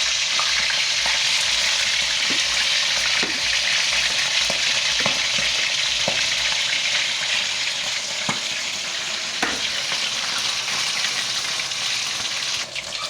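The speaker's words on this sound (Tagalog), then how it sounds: "prituin na po natin ang ating bangus" Milkfish (bangus) frying in hot oil, a loud, steady hiss and crackle filling the whole stretch, broken by occasional sharp pops and light utensil taps.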